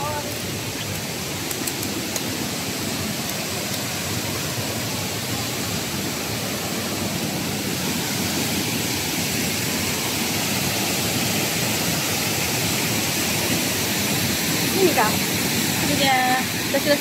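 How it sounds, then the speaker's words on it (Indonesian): Waterfall at the Togudon geo-tourism site near an old British-era iron ore mine, reached by a riverside walk: a steady, dense rushing roar of falling water fills the scene, loud and unbroken throughout. "sampai di waterfall"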